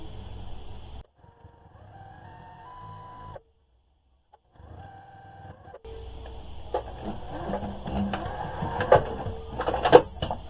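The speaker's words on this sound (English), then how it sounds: "I'm going to go ahead and top stitch right quick" A home sewing machine topstitches fabric for a quilt-as-you-go clothespin bag. It runs in steady whirring stretches broken by short pauses and silence, then rattles and clicks louder toward the end, with no talking.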